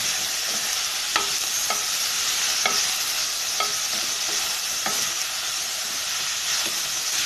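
Beetroot biryani ingredients with chopped coriander sauté in a hot pan, giving a steady close sizzle and hiss with scattered clicks of stirring throughout.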